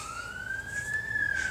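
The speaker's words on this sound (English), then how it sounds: "We're hearing a siren in case." An emergency siren outside, a single rising wail that holds steady at a moderate distance over low background rumble.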